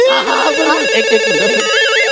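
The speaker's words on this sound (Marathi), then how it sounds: "फोन आहे." A telephone ringtone chirps in a quick warbling electronic melody during a Marathi comedy sketch, loud and close for a couple of seconds.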